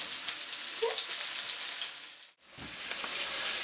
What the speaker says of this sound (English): So that's the onion and the white pudding frying away nicely